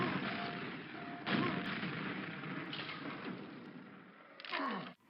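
Grenade and rocket explosions in the video game Quake during a speedrun, a dense run of booming blasts with sharp new bursts near 1.3 seconds and again near 4.5 seconds, loud and continuous with no talk.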